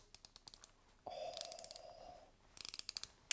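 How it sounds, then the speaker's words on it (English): A watch bezel ratchets round in quick runs of crisp, close clicks, with a brief whirring tone in between. "Solid bezel, no play at all, very satisfying sound."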